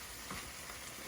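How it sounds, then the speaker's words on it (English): Ground beef sizzles in a pan, a soft steady crackling hiss with faint stirring alongside onion, heard alone at low volume. "Now, I hear that my ground beef is really starting to sizzle."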